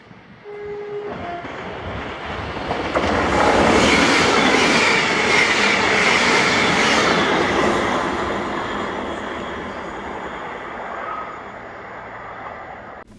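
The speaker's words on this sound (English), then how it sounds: "the 1349 ScotRail service to Edinburgh from Glasgow Queen Street with 385117" A brief horn note, then a ScotRail Class 385 electric passenger train rushes past nearby, its roar and rail clatter building, holding, and slowly fading away.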